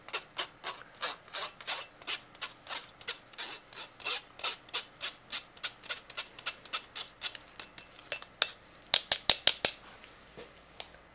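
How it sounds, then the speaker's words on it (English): Colloidal oatmeal is sifted through a sieve for a bath bomb mix, a steady run of about thirty soft, rhythmic rubbing scrapes, then a quick cluster of sharper taps near the end, close up with no talking. "One tablespoon of colloidal oatmeal. I like to sift this through as well"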